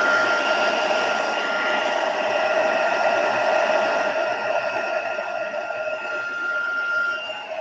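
A heat tool or dryer runs steadily for the whole stretch, a loud continuous whirring hiss with a faint tonal whine, drying a craft card made with a magazine image transfer; no one speaks.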